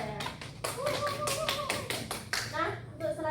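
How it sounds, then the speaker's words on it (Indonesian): Classmates in a chemistry class clap for a student after her presentation, a brisk, steady patter of hands up close, mixed with a few voices chattering over it. "beri tepuk tangan yang meriah untuk Sada."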